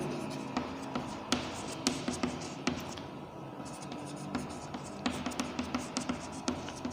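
A pen writing on a board during a chemistry lesson on IUPAC nomenclature, with quiet, steady scratching and regular small taps of strokes throughout, under occasional faint speech.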